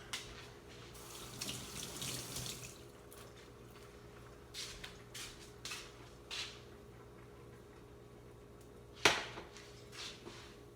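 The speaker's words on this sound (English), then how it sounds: "Washing my hands." A kitchen faucet runs into a sink as hands are washed, a low steady stream of water with soft splashes, quiet and close, with one sharper clatter near the end.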